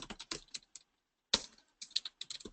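Quiet, close keystrokes on a computer keyboard come in two short bursts of rapid typing, split by a brief silent pause.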